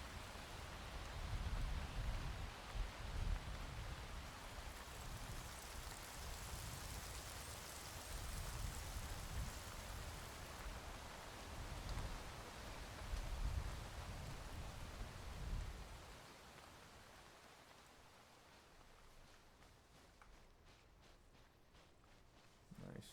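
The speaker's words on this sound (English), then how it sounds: "Rain's picked up, or let up rather." Steady rain falls across an Arma 3 battlefield, a dense even hiss that holds for most of the stretch, then thins to a quieter patter toward the end.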